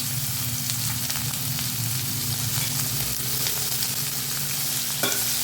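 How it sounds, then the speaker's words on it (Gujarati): Roughly chopped onions frying on high flame in a little oil, a loud, steady close-up sizzle with stirring scrapes and a brief clatter near the end. "આપણે સારો ફ્રાય જ કરીશું થોડું તેલ લઈને"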